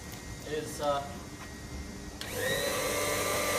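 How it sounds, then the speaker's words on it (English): A steady mechanical hum of a Wayne water booster pump starts up partway through and keeps running, with faint background voices before it kicks in. "which I'm going to turn it on now, is the Wayne pump"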